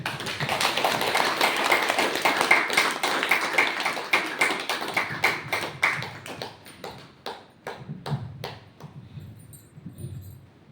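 Audience clapping at a spirited talk at a spiritual seva and sadhana centre in Hoshiarpur: dense, loud applause that thins into scattered single claps and fades to near quiet.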